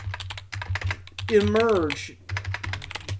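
Typing a command on a computer keyboard, heard as rapid clusters of key clicks in bursts. The typing pauses while someone speaks briefly in the middle, then resumes.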